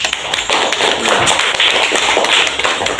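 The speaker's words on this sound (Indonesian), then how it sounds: "Tepuk tangan" Classroom hand clapping from a group of students, a steady run of close, loud claps that goes on without a break for about three seconds.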